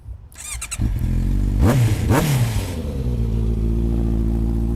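A used Kawasaki or Honda motorcycle engine starts with a quick crank, then is revved hard twice in close succession before settling into a loud, steady idle, recorded up close.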